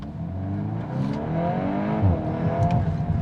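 A Volkswagen Golf R with all-wheel drive accelerates hard, its engine note climbing steadily in pitch and growing louder, heard up close from inside with no talking.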